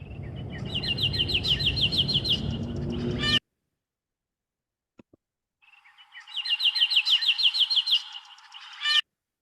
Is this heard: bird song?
yes